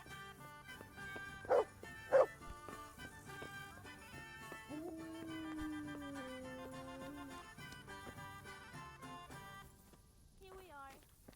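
A dog barks twice sharply in Kingdom Come Deliverance, the yips loud against continuous game music with a melodic tone running underneath.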